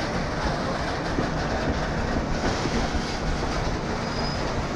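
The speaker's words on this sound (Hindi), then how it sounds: "आसनसोल स्टेशन में ट्रेन की एंट्री होते हुए" A train rolls into Asansol station in India with a steady, loud rumble of wheels and carriages, faint clickety-clack and a brief wheel squeal over continuous rail noise, no voices.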